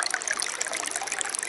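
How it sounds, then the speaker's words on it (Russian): Water trickles and splashes steadily from a Stanley cup during an outdoor cycling trip, a close, continuous hissing pour lasting about a second and a half. "Приходится добавлять из этого крутого стакана Стэнли. Живительной воды."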